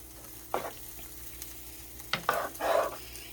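Shrimp fettuccine alfredo being stirred in a pan, with a few separate scraping swishes over a faint background sizzle. The strokes are close and bunch together near the end.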